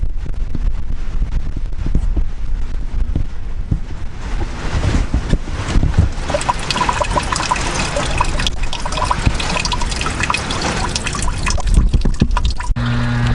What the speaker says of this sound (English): the antifreeze will drain out the bottom of the radiator